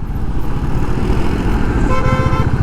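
A car horn in heavy morning traffic near Kurla, Mumbai, sounds long and continuous, rising clearly toward the end over the constant low rumble of engines and road noise.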